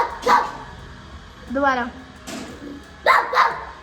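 A person imitates a dog with short barking yips and a whining, wavering howl, in several bursts close to the microphone, amid casual family talk.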